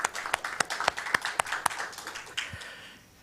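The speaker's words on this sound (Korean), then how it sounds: "나오실 때 박수로 환영해 주시면 고맙겠습니다" Scattered applause at a morning worship service as a pastor comes forward, a run of sharp separate claps that thins out and fades after a couple of seconds.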